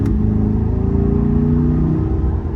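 A Sebring Orange Corvette C8 Stingray pulls away at moderate throttle, its engine a loud, close, rising drone with harmonic tones climbing steadily over a couple of seconds.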